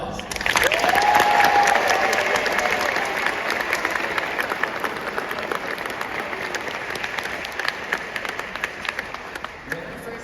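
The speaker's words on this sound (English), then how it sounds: "let's acknowledge everyone with a round of applause" Graduation audience applause at the Eric Hamber Class of 2025 ceremony, a loud, sustained wave of clapping from a large hall crowd, with a brief whistle early on and a gradual fade toward the end.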